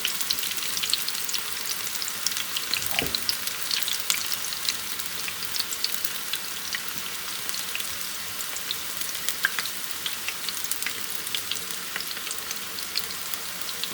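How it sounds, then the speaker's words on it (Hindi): Onion pakoras deep-frying in hot oil over high heat, a steady dense sizzle and crackle that runs throughout with a brief stir or clink near the start and no talking. "इसे हम लोग तेज़ आंच पर ही फ्राई करेंगे"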